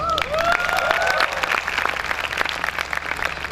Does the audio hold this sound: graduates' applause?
yes